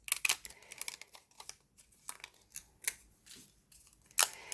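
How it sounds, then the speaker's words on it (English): Paper shapes being cut from die sets for a tropical birthday card make a series of sharp, close snips, crinkles and clicks in an irregular rhythm, with quiet gaps between them and no talking. "I'm going to use the dies from the set, and I'm going to cut it out like this"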